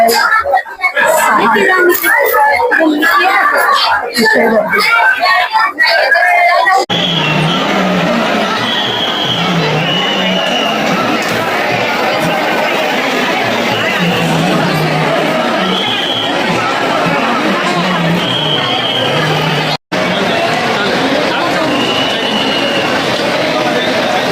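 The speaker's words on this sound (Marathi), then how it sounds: "गर्दी बघा" A dense crowd murmurs at a temple in Tuljapur, a steady busy hubbub with traffic noise and nearby voices talking throughout.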